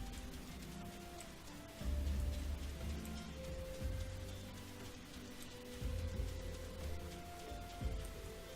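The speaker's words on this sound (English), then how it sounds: "It's raining in the desert." Steady rainfall patters over a desert city in the video game Final Fantasy XIV (Ul'Dah), close and continuous, with low rumbling swells recurring every couple of seconds beneath the drizzle.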